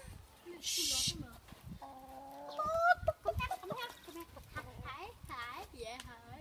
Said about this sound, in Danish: nu skal vi forbi hønsene